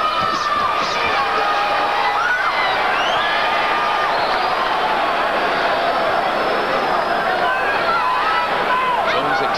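A large boxing crowd roars and cheers continuously at a loud, steady level, with whistles and shouts rising out of the din.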